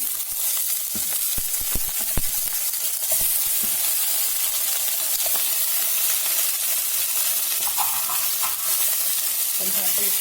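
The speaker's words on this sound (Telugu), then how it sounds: "ఈ ప్యాన్లోనే కొంచెం ఆయిల్ వేసి ఇవి కట్ చేసుకున్న బ్రింజాల్ వేయాలి." Cut brinjal frying in a little oil in a pan, a steady close crackling sizzle with several sharp clicks and scrapes from stirring against the pan, continuing evenly throughout with no speech.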